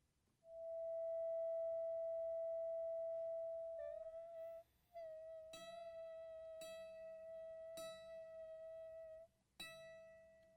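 A steady pure sine reference tone at the pitch E for tuning a violin, sounding alone and holding for several seconds, then briefly shifting and returning with a few short clicking interruptions.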